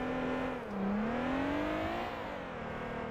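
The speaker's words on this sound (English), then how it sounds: "this engine sounds awesome" A V6 car engine in the driving game Motor Town hums with a steady, continuous drone that dips and then climbs in pitch as it revs, loud and close throughout.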